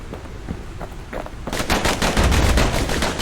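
Twin slinger pistols fire in the video game Bastion, a fast rattling volley of sharp shots that starts sparse and thickens into a loud, continuous burst with booming low impacts.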